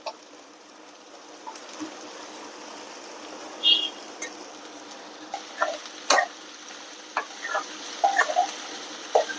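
Cowpeas and onion being stirred in a pan, giving a steady soft frying sizzle under scattered clicks and scrapes of a spoon against the pan; no voices.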